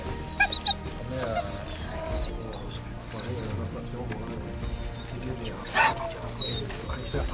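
Several dogs yelp and bark in short bursts, some high whimpers among them, while people talk over the noise.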